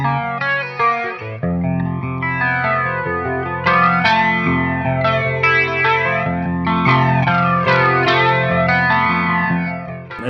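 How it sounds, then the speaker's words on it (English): Clean electric guitar runs through an MXR Flanger/Doubler pedal set as a regular flanger, giving sustained chords and arpeggios a sweeping, swirling shimmer; loud and close with no talking. "I tend to set this like a regular flanger would be set up for lots of good clean sounds"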